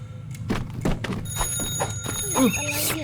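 In Goat Simulator 3, a phone rings with a shrill, repeating electronic tone, steady after the first second, under excited talking and game noises.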